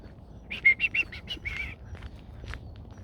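A short run of high whistled chirps, several quick notes in a row, imitating a bird, fairly close over faint background noise.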